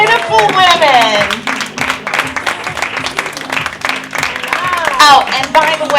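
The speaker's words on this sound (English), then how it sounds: "clap for those beautiful women" An audience claps for models walking the rounds at a clothing show, with moderate, uneven applause mixed with loud talking and cheering voices.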